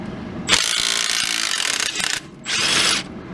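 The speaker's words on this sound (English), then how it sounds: "I'm just getting the strut bolt out that holds it into the bottom here." Ratchet loosening the lower strut bolt on a 2008 BMW X5, a loud, close burst of rapid clicking and grinding that stops briefly, then resumes in a shorter spell.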